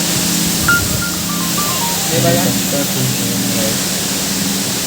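A steady broadband rush of water from a waterfall near the Kondane caves in Karjat fills the whole stretch, continuous and fairly close, with a person talking over it.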